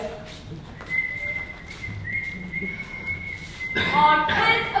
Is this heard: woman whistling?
yes